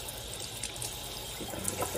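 Water runs steadily from a tap into a sink in a home where laundry is also going, a constant hiss that continues alone at moderate level.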